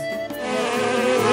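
Insects buzz and drone steadily at close range, a continuous humming whine that swells slightly louder toward the end, heard alone without voices.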